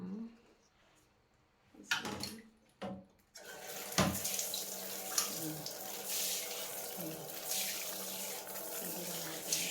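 Water runs from a shower in a bathroom while houseplants are watered, starting after a few soft knocks and then pouring steadily and fairly close, splashing with brighter bursts.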